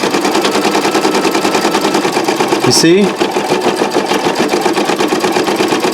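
A Brother Designio embroidery sewing machine stitches with the presser foot down, a steady fast mechanical chatter that runs loud and close throughout, broken briefly by a short spoken remark.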